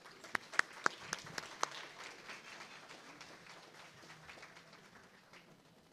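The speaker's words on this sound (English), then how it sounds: "Let's offer them a round of applause." An audience at a county neighborhood awards ceremony breaks into applause, a few sharp nearby claps at the start followed by steady, even clapping from a crowd that slowly fades.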